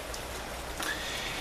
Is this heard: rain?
yes